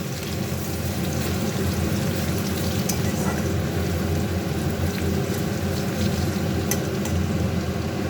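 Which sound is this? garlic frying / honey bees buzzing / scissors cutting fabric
garlic frying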